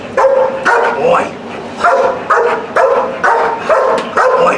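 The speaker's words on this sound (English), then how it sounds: "if you look at Axel here and you see him barking at you" A protection-trained dog barks in a steady series of loud, close barks, about six or seven evenly spaced, with no talking over them.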